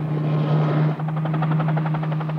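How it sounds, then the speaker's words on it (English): Helicopter from the research ship Calypso, flying over open sea thirty miles south of Belize City: a steady loud rotor drone with a strong low hum, the blade chop turning into a clear rapid rhythmic beat in the second half. "Calypso's helicopter is dispatched."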